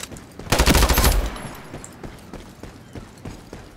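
Rapid automatic gunfire in the shooter game Ironsight, a dense loud burst of close shots followed by sparser, fainter single shots and clicks.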